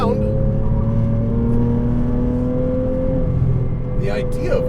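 Turbocharged 2007 Porsche Cayman S engine running on a race track, a steady loud droning rumble with sustained harmonic whine, slight pitch rise and a brief dip near the end.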